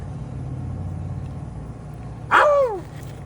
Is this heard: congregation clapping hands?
no